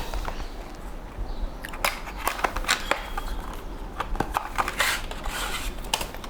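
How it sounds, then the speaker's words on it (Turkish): A Ugreen USB-C hub is being unboxed. Close, dry clicks, taps and rustles of cardboard and packaging come in quick irregular bursts with no talking. "Önce bir kutu açılışını yapalım isterseniz sonra üstüne konuşalım."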